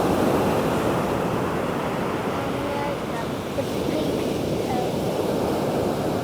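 Ocean surf washes steadily along the shore beside the Bangui wind farm in Ilocos Norte, a continuous broad roar mixed with wind buffeting the microphone, with no clear breaks.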